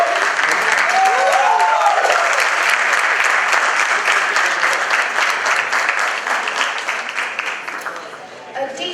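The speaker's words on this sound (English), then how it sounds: "Can we have a round of applause and please welcome Mr." An audience at a literature and cinema event applauds to welcome a speaker on stage, with dense sustained clapping that tapers slightly toward the end and a brief voice near the start.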